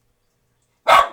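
A pet dog lets out a single sharp bark near the end, loud and close, after a stretch of silence.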